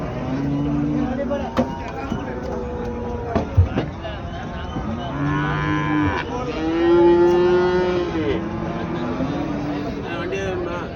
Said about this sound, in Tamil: எல்லாம் வளர்ப்பு கிடாரிங்க, நம்ம அதை பார்த்துட்ருக்கோம்.